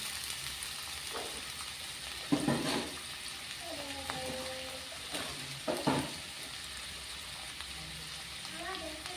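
Potatoes sizzle and fry steadily in a pan in a village-style kitchen, with occasional louder stirring scrapes and a brief clink; a voice speaks faintly underneath.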